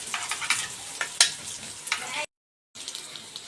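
Kofta frying in a pan, a steady close sizzle with stirring scrapes and a few sharp clinks, broken by a brief silent gap before the sizzling resumes.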